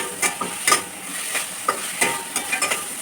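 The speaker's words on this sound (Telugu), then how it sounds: "కలుపుతూనే ఉన్నాను ఫ్రెండ్స్" A spoon stirring carrot and beetroot halwa in a pan with ghee gives soft scraping strokes at an irregular rhythm over a steady low sizzle, close and fairly quiet.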